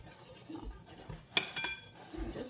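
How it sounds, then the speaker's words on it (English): A whisk rattles and clinks in a bowl of dry buttermilk pancake ingredients, including baking soda and baking powder, in soft irregular strokes and one sharper metallic clink, close and quiet, with no talking. "I'm just going to keep whisking"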